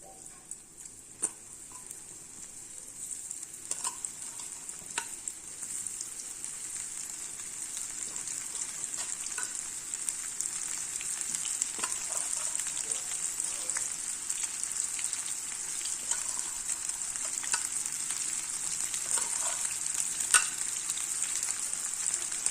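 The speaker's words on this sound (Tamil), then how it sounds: "அடுப்பில் பேன் போட்டு ஆயில் ஊற்றிருக்கேன் இப்போ இதை வந்து இந்த பன்னீர் துண்டுகளை இதில் பொறிச்சு எடுத்துடலாம்" Paneer pieces frying in a pan of hot oil, giving a steady, dense sizzle that swells slightly and runs unbroken from start to end, close up, with no talking.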